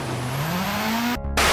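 A rally car in EA Sports WRC 2023 drives hard with a steady, rising engine drone that shifts pitch on a gear change near the end, loud and continuous with no talk.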